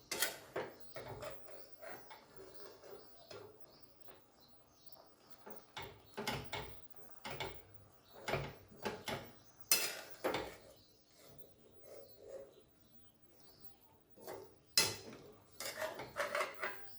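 Metal kitchenware clatters near a cooking pot of methi bhaji, a dozen or so sharp clanks and scrapes as a lid is set on and the pot is shifted, spread irregularly over quiet pauses.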